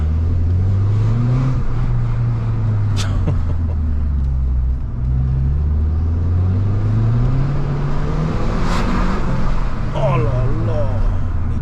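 Mazda 3 MPS with a 2.3 L turbo engine accelerating hard, heard from inside as a loud, continuous engine drone that climbs and falls through gear changes, with excited speech over it.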